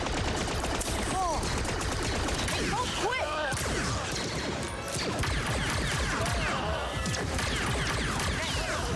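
Blaster gunfire in the Star Wars Outlaws video game: dense, continuous bursts of rapid shots and impacts stacked over a busy action soundscape, with a voice talking over part of the fight.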